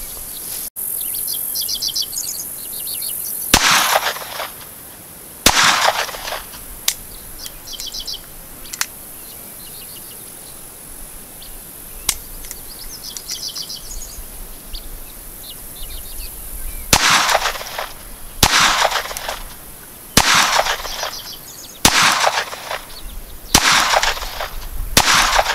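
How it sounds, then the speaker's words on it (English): A Ruger SR22 pistol firing Winchester .22 ammunition outdoors at a pistol target, a loose series of sharp, fairly loud cracks, first spaced out and then in a quicker run, over birds and insects in the background. "So we're going to start shooting and see what happens."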